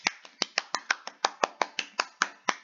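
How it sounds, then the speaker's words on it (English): A lone person clapping for someone during a 100-subscriber celebration, about fourteen sharp, evenly spaced hand claps at a brisk steady rhythm, close and clear with no talk. "Clap for Shehun."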